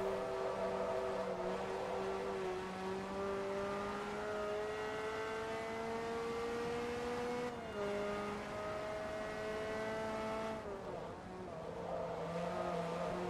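Race car engine in Forza Motorsport 2, a steady high whine that climbs through the gears with brief drops at each shift, continuous and fairly quiet throughout.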